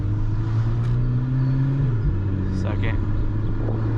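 A car engine drones low and steady while it pulls hard in a gear, then a brief dip marks a quick paddle-shifted gear change before it climbs again. Someone speaks briefly over the engine.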